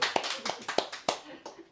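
A small church group claps for Jaebeom, a few distinct sparse claps spread across under a second and a half, fairly quiet and close, with a voice briefly heard.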